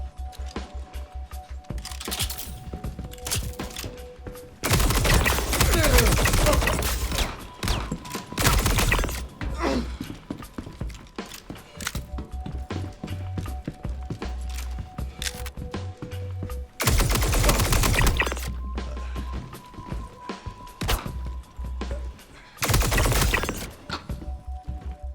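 A pulse laser pistol fires in a video game in rapid bursts of loud, dense shots, several long volleys separated by quieter stretches with a low hum and game sounds.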